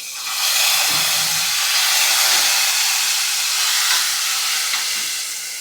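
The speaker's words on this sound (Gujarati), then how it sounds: "હવે આપણે કઢીની અંદર વઘાર એડ કરી દઈશું" Hot spiced tempering poured into kadhi bursts into a loud, close, hissing sizzle that starts abruptly, holds strongly for several seconds and eases off at the end.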